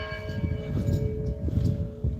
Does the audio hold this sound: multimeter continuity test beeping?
no